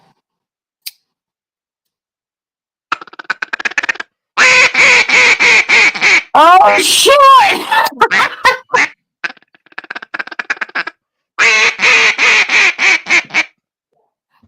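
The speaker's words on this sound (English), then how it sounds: "That is a duck call that you have there, bro." A custom-made duck call is blown in a run of repeated quacking bursts, loud and close, with a few rasping grouped notes between them and a brief exclamation near the start.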